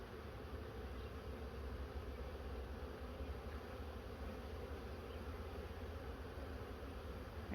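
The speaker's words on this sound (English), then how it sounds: "I have a bee crawling up my leg." Dense, steady buzzing of many honeybees swarms around an open hive as a nuc is moved in, close and constant with no talk.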